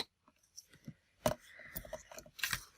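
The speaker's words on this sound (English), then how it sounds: "I need my tall scissors" Tall scissors cut through double sided foam tape, a few sharp snips and crunchy clicks spaced unevenly and heard up close in a quiet room.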